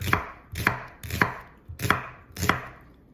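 Knife thinly slicing leeks on a cutting board, five evenly spaced crisp chops about half a second apart, close and clear with no voices.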